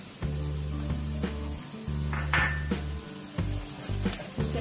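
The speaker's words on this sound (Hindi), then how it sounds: "इस गरम मसाले को थोड़ा सा इसके अंदर भूनेंगे" Garam masala frying with onions in a hot pan: a continuous sizzle broken by stirring scrapes and metallic clinks of a spoon on the pan, with no voices.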